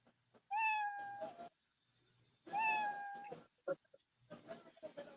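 A cat lets out two long, clear meows close by, each drawn out for about a second, separated by a quiet gap, with soft shuffling noises around them.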